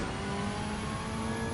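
A race car in Gran Turismo 7 accelerates hard, its engine holding a steady, loud, continuous roar close up with no talk over it.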